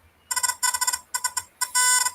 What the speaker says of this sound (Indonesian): jadi buzzer menyala